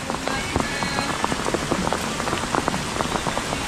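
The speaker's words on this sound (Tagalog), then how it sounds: "Umuulan pa naman, alang tigil ang ulan." Steady rain falls on surfaces near a vegetable farm, a dense hiss of drops with scattered sharper patters, continuous and fairly close, with no talking.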